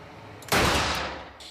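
A single close gunshot at a firing range, a sharp loud blast that decays over about a second amid faint background noise.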